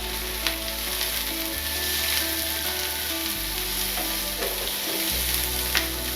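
Onions, green chillies and curry leaves fry in hot oil, giving a steady, close sizzle with a few light stirring scrapes and no voices.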